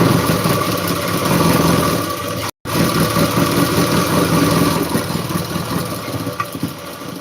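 An electric kitchen grinder running continuously nearby, a loud steady motor drone with a brief cut partway through, no speech over it.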